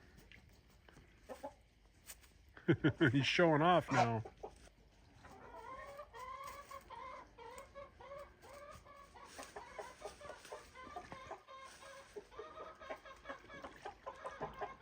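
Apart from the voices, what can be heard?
rooster clucking, calling hens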